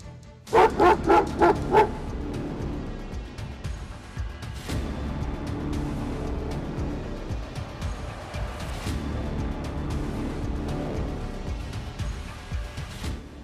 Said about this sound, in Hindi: जरा सी आहट होते ही अलर्ट हो जाते हैं खूंखार कुत्ते